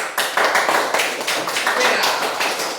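A classroom of students breaks into applause, a dense burst of hand clapping that fills the room, with children's voices mixed in.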